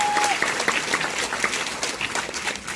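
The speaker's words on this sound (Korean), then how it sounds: "박수 한 번 더 주시겠어요?" An audience at a one-day beauty seminar in Ulsan claps loudly in a brisk, dense burst of applause that stays steady for a few seconds.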